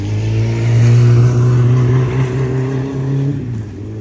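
A motorcycle rides past near a rural orchard, its engine a steady mid-pitched drone that swells loudly around the first second, holds, then fades out toward the end.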